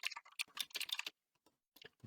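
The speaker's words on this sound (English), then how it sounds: "I can hear Donnie over here typing away" Rapid clattering keystrokes on a loud computer keyboard, close and crisp, in quick bursts followed by a short pause and a few more taps.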